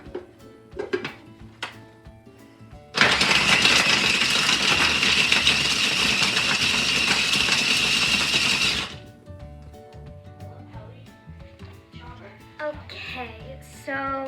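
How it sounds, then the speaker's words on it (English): A machine grinds chocolate for Neiman Marcus cookies, a loud, steady mechanical whir lasting about six seconds, with talking before and after it. "I just finished grinding my chocolate"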